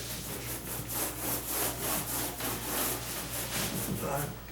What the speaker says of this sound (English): with the little mini roller and paint tray.